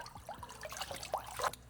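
Cold water runs from a bathroom tap in a steady trickling stream, close and fairly quiet, with small splashes and shifts in the flow.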